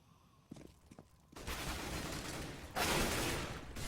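Gunfire in a competitive CS:GO match: a few sharp isolated shots early, then a sustained dense burst of rapid fire that swells louder near the end, with no talk over it.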